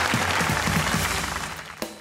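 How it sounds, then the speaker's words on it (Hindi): Studio audience applauding on a Hindi-Urdu comedy talk show, a dense steady wash of clapping that holds loud and fades slightly toward the end. "तालियां बजाएं।"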